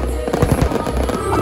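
A fireworks display on New Year's, heard close as a dense, loud volley of crackling bursts and pops running continuously.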